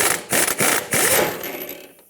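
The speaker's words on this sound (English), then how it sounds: "I'm going to take my 24mm socket with my air gun and try to drive this off." An air impact gun with a 24mm socket hammers at a stuck inner tie rod nut on a 2012-2020 Ford Focus, firing several short, loud rattling bursts before trailing off into quiet.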